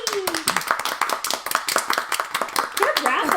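A group claps in a rough, uneven burst that carries on for several seconds, the sharp hand slaps close by and continuous, with voices talking over the clapping.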